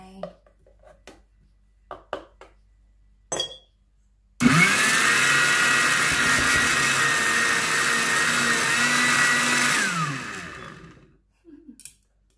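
Strawberries and milk whirring in a blender, a loud steady motor roar of about six seconds that spins down at the end, with a few brief clinks and thuds before and after.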